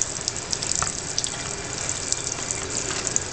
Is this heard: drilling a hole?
no